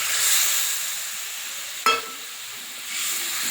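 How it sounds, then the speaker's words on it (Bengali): Water poured into a pan of fried-down spice paste for a fish curry gives a sudden sharp hiss and sizzle that fades over a second, set against a quieter steady frying background. "জল দিয়ে দেব।"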